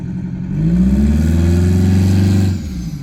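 A bus engine with a turbo is revved hard at full throttle, a loud close roar climbing in pitch for about two seconds before dropping away.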